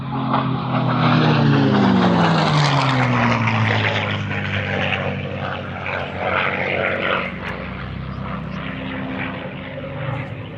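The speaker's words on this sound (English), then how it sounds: "The airplane is an amazing sound on its own, so we're just going to listen to the sound" Propeller airplane at the Augusta airshow sweeping past, a loud, near engine drone that rises and then falls in pitch as it passes overhead and recedes into the distance.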